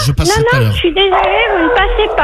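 A small dog whimpers and yips close by, high and whiny, under a voice as people talk on a radio phone call.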